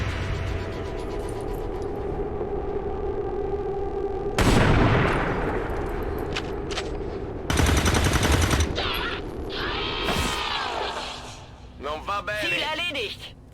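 Overwatch gunfire in the XCOM 2 game: loud bursts of rapid shots and booms break out in two heavy volleys, with whooshes and game voices between, over a steady background hum.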